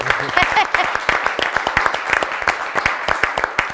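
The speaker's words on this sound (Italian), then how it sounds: "ci sta anche un sì. applauso." Applause at a live quiz show event, scattered claps from a modest crowd sounding as sharp, distinct hand strikes rather than a dense roar, moderately close and steady for several seconds.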